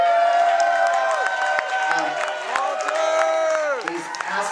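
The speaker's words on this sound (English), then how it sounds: "I want to give a warm round of applause for our National Anthem singer here" An audience at a roast event claps and whoops for the national anthem singer, with loud steady applause and rising cheers that ease off slightly near the end.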